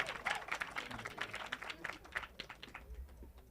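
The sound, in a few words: audience applause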